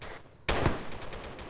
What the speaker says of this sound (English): Taking fire from the next building over direct east.